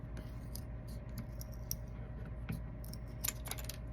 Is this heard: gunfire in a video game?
no